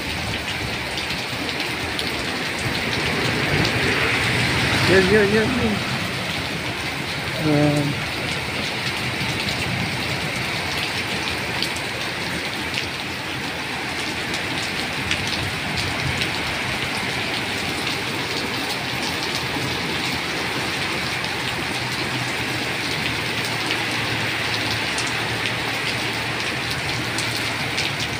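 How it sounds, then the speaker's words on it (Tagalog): Heavy rain pours down in Jeddah during a storm that floods the streets, a dense, steady hiss lasting the whole time with a little rumble underneath. A single short word is spoken early on. "Lakas ang ulan."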